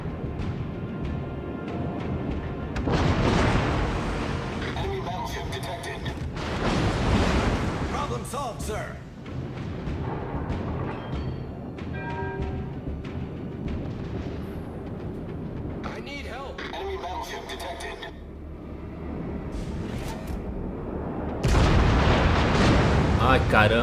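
Heavy booming naval gun salvos from the battleship Dunkerque in World of Warships, several loud blasts with rumbling tails, with someone talking excitedly over them.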